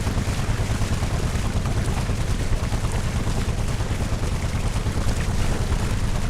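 Outboard motorboat engine of Bajau kite fishermen in the Celebes Islands, a steady low drone with wind-like noise running unbroken through the whole stretch, no voices.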